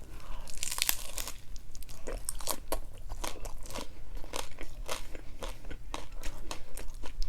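Close, loud crunching as a crisp chicken taco is bitten and chewed, in irregular repeated crackly bursts.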